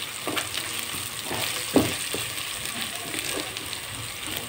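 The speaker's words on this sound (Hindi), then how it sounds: "अब इसमें हम डालेंगे 1 टेबल स्पून अदरक लहसुन का पेस्ट और इसको भी मसालों में थोड़ा सा घी में थोड़ा सा भूनेंगे प्याज के साथ ही।" Ginger-garlic paste fries in ghee with onions and spices for a pea biryani, a steady close sizzle broken by a few stirring scrapes and one brief louder clack.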